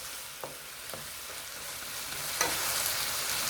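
Alexandrian-style liver with peppers frying in a pan, a soft steady sizzle with a few quiet scrapes of stirring, fairly faint and without talk.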